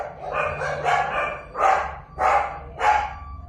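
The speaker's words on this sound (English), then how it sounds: "Sorry, my dogs are barking so loud." Dogs barking loudly indoors, about six sharp barks in an uneven rhythm, close and unaccompanied by talk.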